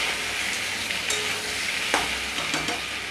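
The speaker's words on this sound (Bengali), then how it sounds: "আদাটা দিয়ে দিলাম, ভালো করে নেড়ে নিচ্ছি" Grated ginger stirred in a hot pan for vegetarian aloo dum, a steady broad frying sizzle with a few soft scraping strokes of the spatula, close and continuous, with no talk.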